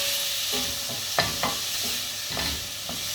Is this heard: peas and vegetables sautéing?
yes